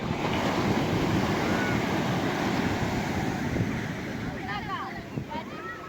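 Rough ocean waves roll and break in a steady roar, with wind buffeting the microphone; a voice speaks briefly near the end.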